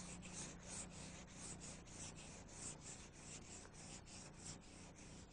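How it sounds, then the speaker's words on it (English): Medium-to-fine sandpaper rubs over primer on car bodywork in steady, rhythmic back-and-forth strokes, about four per second, close and even, with no voices. "we're going to go with a medium to fine sandpaper and fine sand the primer"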